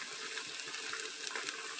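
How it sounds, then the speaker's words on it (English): Water pours into a cooking pot of dumplings with seasoning, a steady moderately loud running splash that continues unbroken with no voices. "So now I'm gonna add some water and the seasoning to it."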